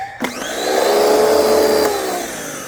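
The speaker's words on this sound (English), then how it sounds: "particularly spraying the pressure washer up close to it" A pressure washer starts up with a sharp click and settles into a loud, steady hissing roar close by, then eases slightly, while washing a Stark Varg electric dirt bike.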